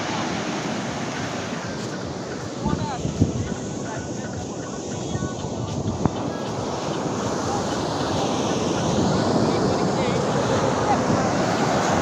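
Rough sea surf rolls onto a beach in a steady, broad roar, with wind buffeting the microphone and a few brief knocks, continuous and fairly loud throughout.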